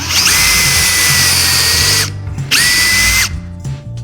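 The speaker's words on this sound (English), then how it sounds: "we're gonna pre-drill the holes so that the screw doesn't pull the board away from the wall" A power drill pre-drills holes through board into metal studs, in two loud bursts: a long whining run with a steady motor pitch, a short pause, then a briefer second run, with no talking.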